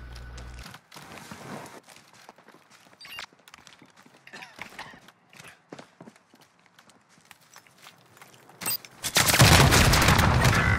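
Scattered sharp shots crackle through a Call of Duty: Modern Warfare battle royale match, quick bursts and single cracks at varying distances, ending in a loud sustained roar of noise.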